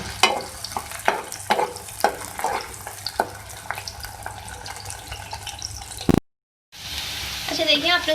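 Chopped green chillies and onion fry in oil with a close sizzle and repeated scraping taps of a stirring spoon, then a short gap before a louder burst of frying, with no voices.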